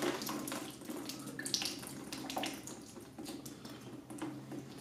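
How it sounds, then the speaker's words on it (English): Water running and splashing on the ground while engine parts from a 5.3 LS teardown are cleaned up: a steady, faint rushing flow with scattered drips and splashes and no voices. "The water flows downhill, and this is going downhill."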